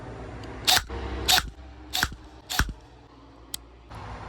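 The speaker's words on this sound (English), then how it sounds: "we're gonna shoot it without the barrel to see what it sounds like before" An airsoft gun is fired without a suppressor with the magazine in, producing four sharp mechanical snaps at steady intervals plus a lighter click, close and dry against a quiet background.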